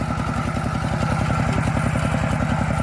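A 9.5–11 horsepower walk-behind tractor engine working a rice paddy runs close and loud in a fast, steady chugging rhythm, with a continuous mechanical clatter and no voices.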